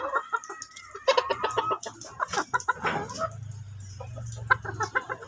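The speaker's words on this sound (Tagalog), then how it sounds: "ibigay natin sa ating chicken" A chicken clucks in a series of short, uneven bursts close by, with a low soft throaty rumble in the latter half and faint outdoor background.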